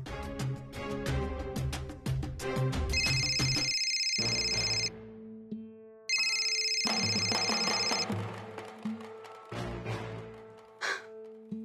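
A telephone rings in two steady bursts separated by a short pause, heard under dramatic background music, with no talking.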